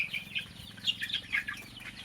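A pair of free-range desi hens on a village poultry farm cluck in repeated short bursts, fairly loud and close, with a steady low background hum underneath and no talking.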